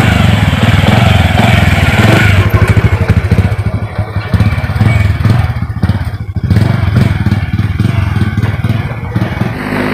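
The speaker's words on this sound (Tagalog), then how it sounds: "May motor na po to." A motorcycle engine runs loud and close with a rough, rapid putter and clattering, the throb shifting slightly as it revs and settles, with voices talking faintly over it.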